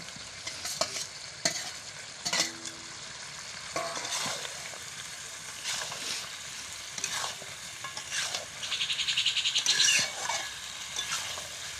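Fried potatoes sizzle in a frying pan while a utensil stirs and scrapes through them in repeated strokes, close and steady.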